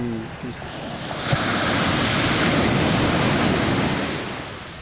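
Loud, steady surf from strong sea waves breaking on a beach at Safi, Morocco, on a foggy May day, a continuous roaring wash that swells and holds for the whole stretch, with a brief voice near the start.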